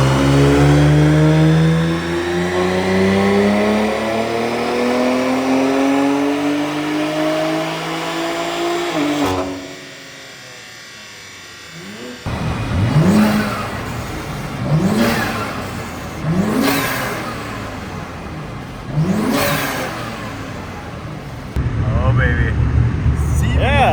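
BMW M3 G80 with Valvetronic exhaust and new software, revving hard on a dyno: a long rising full-throttle pull, a brief drop in level, then several sharp throttle blips with crackles, loud and close.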